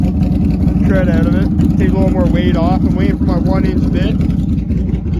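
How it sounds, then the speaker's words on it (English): A Can-Am Outlander XTMR ATV engine idles loudly and steadily while warming up in a shop, a constant low rumble running beneath someone talking throughout. "let it warm up so I can top it up with rad fluid and everything. God, this thing's loud"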